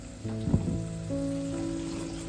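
Steady close sizzling of prawn gravy frying in a hot pan, with a brief stir clatter early on and a low tonal hum underneath.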